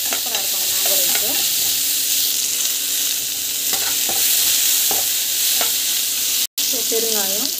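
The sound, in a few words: sautéing onions and curry leaves in pan for mango rice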